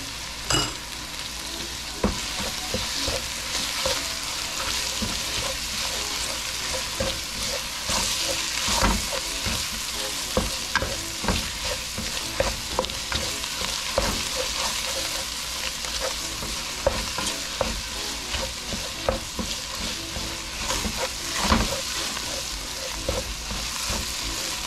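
Tomato sofrito sizzles steadily in a pot for a chicken soup while a utensil stirs it, giving a continuous frying hiss with frequent scraping clicks throughout.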